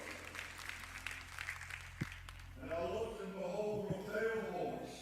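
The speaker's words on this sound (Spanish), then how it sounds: "demos al Señor un aplauso de adoración" A church congregation breaks into applause during worship, a sustained wash of clapping that swells after a quieter stretch with a voice over it.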